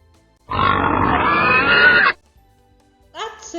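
A loud, close pig grunt lasts about a second and a half, followed by silence and then a short burst of a voice.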